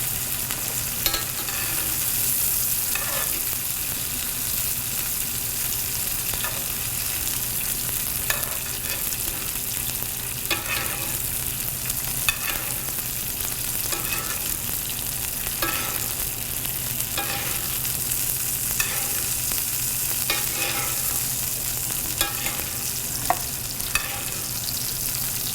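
A pan-seared steak sizzles loudly and continuously in a pan while it is flipped and basted, with regular spooning strokes and scrapes recurring over the constant frying hiss.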